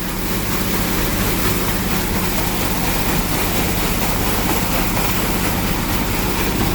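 Hydromax liquid is poured into a T90 sprayer tank, making a steady, loud rushing splash without a break.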